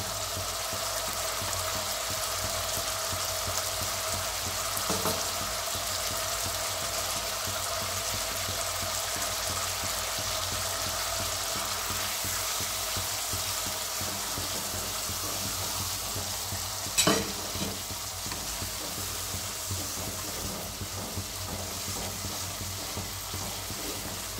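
Cashew paste frying in a pan for a festive cashew masala kaju curry, a steady close sizzle with soft stirring scrapes running throughout, one brief sharper clatter midway.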